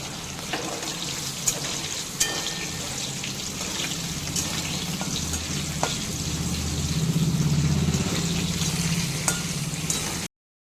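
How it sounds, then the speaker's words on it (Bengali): Cauliflower pieces frying in hot oil in a pan give a steady close sizzle with a few scattered pops and stirring clicks, swelling a little louder toward the end. "ফুলকপিটা একটু ভাজিয়ে নিচ্ছিলাম, খুব সাবধানে ভাজতে হবে।"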